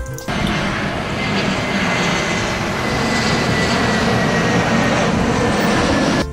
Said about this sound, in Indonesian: ini pesawat Air Asia.